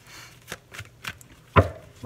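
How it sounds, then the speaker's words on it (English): A tarot card deck being shuffled by hand gives several short papery riffling bursts at an uneven pace, with the final burst the loudest, and no talking. "we're going to do 2 more regular shuffles"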